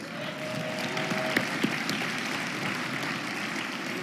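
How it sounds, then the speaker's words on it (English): Audience applause fills a hall at the 36th annual Dr. Martin Luther King Jr. Holiday Breakfast, a steady dense wash of clapping heard alone throughout, with a brief tonal hum early on. "please join me in another round of applause for Billy Still and friends"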